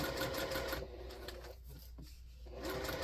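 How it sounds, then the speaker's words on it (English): A sewing machine runs a long basting stitch through fabric being joined to foam for a fabric basket, its steady mechanical whir close and continuous, dipping briefly mid-way before picking back up. "You could up your stitch length also, because this is just going to be a basting stitch."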